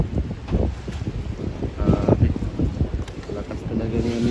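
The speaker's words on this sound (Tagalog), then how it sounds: "Lakas talaga ng amihan." Gusty northeast monsoon wind (amihan) buffets the microphone with low rumbling roars rising and falling, while someone speaks faintly underneath.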